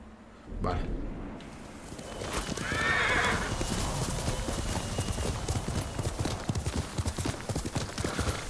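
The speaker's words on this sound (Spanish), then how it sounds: "Más no puede correr el caballo" A horse in Ghost of Tsushima gallops with loud, close clip-clop hooves and gives a clear whinny early on, while someone talks over the steady hoofbeats.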